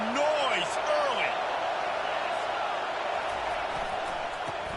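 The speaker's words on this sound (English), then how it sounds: "This crowd bringing the energy and noise early." Stadium crowd in a college football video game, Florida State at USC, a dense steady roar filling the stadium throughout, with brief whistling tones at the start and commentary spoken over it.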